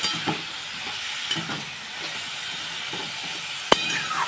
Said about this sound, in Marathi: आता त्याला छान परतून घेते 2 मिनिटं।